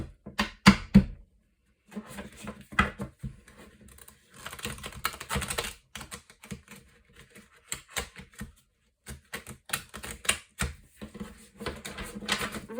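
A brand-new, stiff deck of playing cards being shuffled, giving bursts of rapid riffling clicks and flutters separated by short pauses, close and fairly quiet with no talking.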